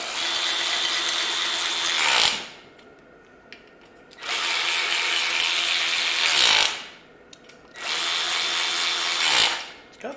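A Ryobi cordless power tool runs loosening engine bolts on an Ariens IKON X52 snow blower, three loud, close bursts of whirring, rattling drive, each lasting about two seconds and cutting off abruptly with short quiet gaps between.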